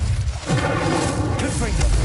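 Confringo and Incendio spells detonating in the Hogwarts Legacy video game, loud booming blasts with rumbling low end, one heavy burst following another while a voice calls out over them.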